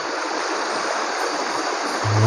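A waterfall-fed stream on Gunung Ledang rushes in a steady, dense roar that is loud and close, with no voices.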